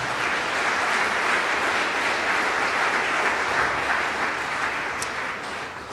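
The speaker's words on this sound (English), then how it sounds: "If we could have a round of applause for all of the sponsors" Steady, full applause from a keynote lecture audience thanking the sponsors, an even wash of many hands clapping that fades slightly toward the close.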